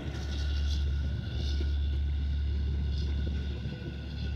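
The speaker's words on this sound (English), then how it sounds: "Well, that's a tug." A heavy, low engine drone rumbles continuously with wind buffeting the microphone as a tugboat motors past close by on North Carolina coastal water.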